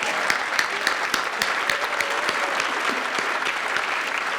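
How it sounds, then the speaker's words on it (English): An audience at a university Founders' Day gathering applauds the arrival of Corky, the school mascot, with loud, continuous clapping and sharp individual claps standing out from the crowd. "Let's give him applause to Corky"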